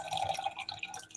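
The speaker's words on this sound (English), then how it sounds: "I'm going to put water out." Water is poured out of a pot of noodles, a continuous splashing, trickling stream heard close and on its own.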